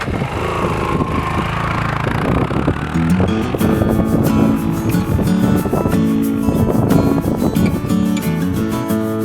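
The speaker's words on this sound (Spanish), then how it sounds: "me subo a mi moto y me pongo en camino a mi siguiente destino" A motorcycle engine drones steadily and loudly throughout, with rising revs and gear changes as the bike rides along a road in La Rioja, Argentina, plus wind and road rumble.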